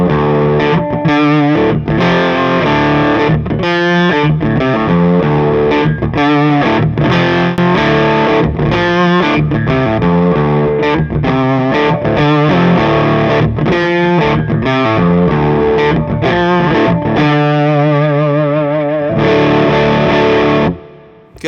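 Distorted electric guitar played through a neck humbucker pickup with effects, loud chugging chords and riffs in choppy bursts, then a sustained ringing passage before it cuts off abruptly.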